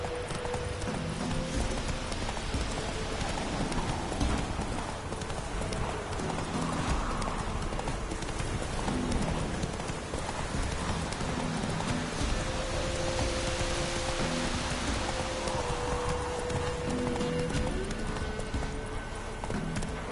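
The horse Roach's hooves clip-clop steadily on the ground in the Witcher 3 video game, a continuous walking rhythm with a faint whinny and a light rain-like patter in the background.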